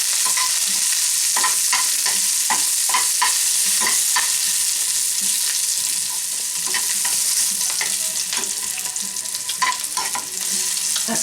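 Onions sizzling loudly in a pan with a pinch of salt, a bright constant hiss punctuated by frequent scraping and clacking strokes of a utensil as they are stirred.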